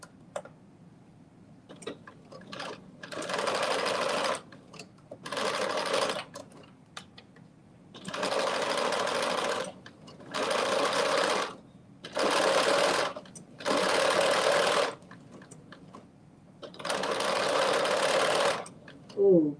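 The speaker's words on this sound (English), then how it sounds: "And now I'm sewing and then I'm going to do a back stitch" A sewing machine runs in several bursts of steady, close whirring stitching, briefly pausing and restarting as a back stitch reinforces the seam of a fanny pack, with quiet handling noises in the gaps.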